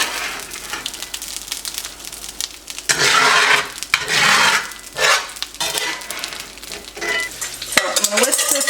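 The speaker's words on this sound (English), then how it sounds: "So I'm going to whisk this sauce in here." Sauce being whisked and cooked down in a pan, heard as bursts of loud, close scraping and sizzling that come and go in an irregular rhythm, with metal utensil clatter.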